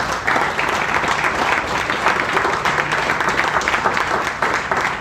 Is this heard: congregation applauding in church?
yes